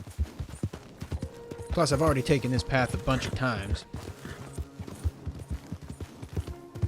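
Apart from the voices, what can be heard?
horse hooves clip-clopping while riding, video game Red Dead Redemption 2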